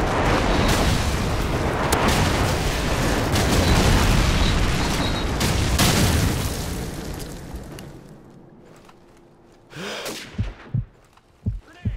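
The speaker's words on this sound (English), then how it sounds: "Friendly airstrike on the way!" Call of Duty 4 airstrike explosions make a loud, sustained rumbling roar of overlapping blasts that fades away, followed by a few separate distant booms.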